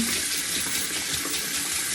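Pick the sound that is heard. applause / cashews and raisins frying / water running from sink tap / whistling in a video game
water running from sink tap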